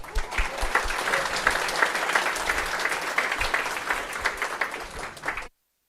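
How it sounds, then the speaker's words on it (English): A conference audience applauds a speaker being introduced, a full, continuous burst of many hands clapping that holds steady for several seconds and then stops abruptly. "So please give him a big round of applause."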